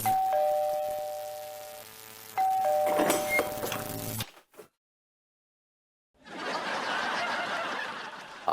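A faulty household doorbell rings with a repeated electronic tone, then falls silent before a burst of noisy chatter and laughter follows.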